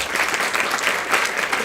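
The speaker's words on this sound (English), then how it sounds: "Round of applause." A meeting audience breaks into dense, steady applause, a continuous wash of many hands clapping at close range for a short burst.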